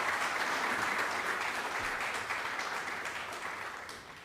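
Audience at a general body meeting applauding in thanks, a thick wash of clapping from many hands that starts strong and gradually tapers off.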